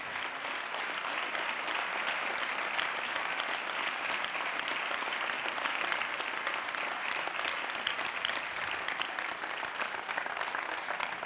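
Dense, sustained applause from a theatre audience at an awards ceremony, steady loud clapping that fills the whole stretch without a break.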